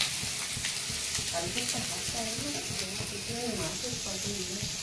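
Whole onions frying in a pan give a steady sizzle with occasional stirring, while a voice speaks over it throughout.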